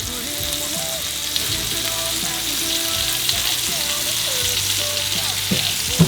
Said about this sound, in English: I'm putting the skin side down so that the skin can crisp up in the butter.